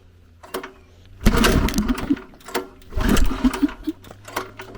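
A buggy's engine converted to run on LPG cranks and catches twice, with a rhythmic, rattling mechanical chatter in two loud bursts over a quieter idle-like hum.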